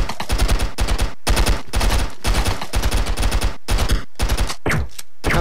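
Rapid bursts of AK-47 automatic fire from the stick-figure shooter game Stick Arena Dimensions, loud and close, coming in repeated volleys separated by brief gaps.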